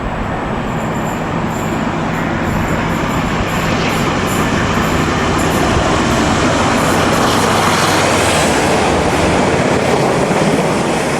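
British diesel locomotive 47281 hauls a Freightliner container train at Cropredy in 1995, a loud, sustained engine roar and rumble close by with constant rolling wheel noise, unbroken for the whole stretch.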